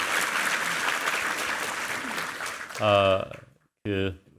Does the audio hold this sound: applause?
yes